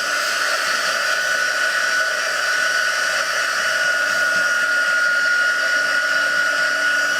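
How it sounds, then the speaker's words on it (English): A heat embossing tool runs steadily and loudly throughout during a craft embossing session, a constant airy whir like a hair dryer with a faint whine, with no talking. "you can let me know if it's too loud and you'd prefer me to hit the mute button when I'm doing the embossing"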